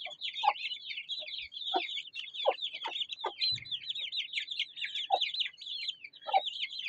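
Chickens and small chicks cluck and chirp busily while pecking at feed, a dense layer of high peeping with scattered louder clucks up close and a soft thump, quiet overall with no speech.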